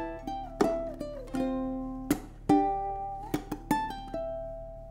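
Solo ukulele plays the first four bars of a song's verse, plucked notes and chords ringing out with sharp percussive strums scattered through, quiet and close with no voice.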